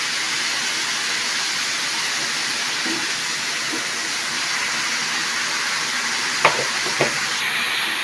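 Radish, carrot and beans frying in a pan with turmeric and salt give off a steady, even sizzle and hiss throughout, with two brief clinks of a utensil near the end.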